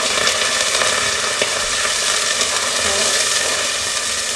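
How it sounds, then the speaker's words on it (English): Cold water poured onto frying onions for chicken pulao, giving a steady, loud, close sizzle and hiss that stays even throughout with no talking. "You want to slowly add in your water, your cold water. Be careful it splatters."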